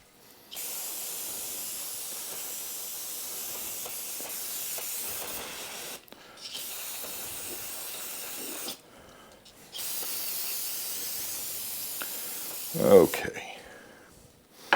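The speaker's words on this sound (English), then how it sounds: "now I'm going to get some brake cleaner and clean all the mess off" Brake cleaner sprays from an aerosol can onto a Polaris Sportsman 700 ATV in three long, steady hissing bursts separated by brief pauses, close and loud, with a short clatter near the end.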